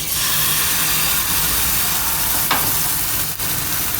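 Crepe batter sizzling in a hot pan: a loud, steady, even hiss that fills the whole stretch, broken only by a brief scrape and a soft knock near the end, with no talking.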